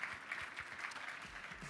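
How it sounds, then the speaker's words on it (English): Brief audience applause at a real estate awards ceremony after the nominees are presented, a short burst of steady crowd clapping heard at a distance. "I think that deserves a big round of applause."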